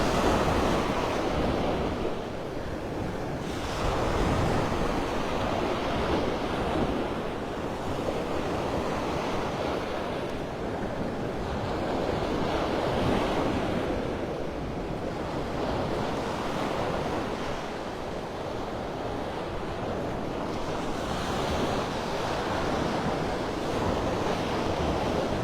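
Ocean surf rolls in on Vanderbilt Beach in North Naples, Florida, on a morning walk, a continuous loud roar of breaking waves with steady wind buffeting the microphone and gentle swells in level.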